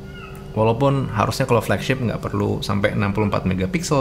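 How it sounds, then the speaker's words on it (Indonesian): A cat meows outdoors, its cries audible under someone speaking steadily and fairly loudly nearby. "Ada suara kucing di luar."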